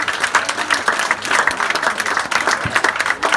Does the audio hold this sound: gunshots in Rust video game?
no